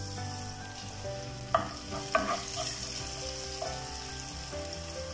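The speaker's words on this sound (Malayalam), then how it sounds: "നന്നായിട്ടൊന്ന് ഇങ്ങനെ ഉടച്ചു കൊടുക്കുക അപ്പോൾ നന്നായി പെട്ടെന്ന് നമുക്കിതൊന്ന് പേസ്റ്റായി കിട്ടും" Tomatoes being mashed and stirred in a frying pan for a tomato curry (kurma), with a steady sizzle and a few sharp scrapes of the spoon against the pan, close and fairly quiet, with no one speaking.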